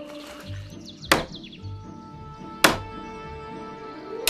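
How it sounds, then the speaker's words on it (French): Hammer blows in an indoor scene, three sharp, loud strikes spaced about a second and a half apart, with faint bird chirps and a low hum between them. "ce marteau n'est pas du tout approprié"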